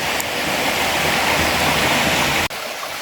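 Water flows steadily along a small creek where fish traps are set, a loud continuous rushing and gurgling that stays even throughout, with a brief dip near the end.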